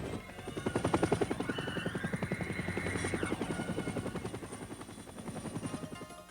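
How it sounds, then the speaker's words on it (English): A dust-off ambulance helicopter from the Vietnam War flies overhead with a loud, steady rotor thump and engine whine that swells and fades slightly, heard alone without talk. "Leaving Saigon even by dust-off ambulance helicopter had its risks."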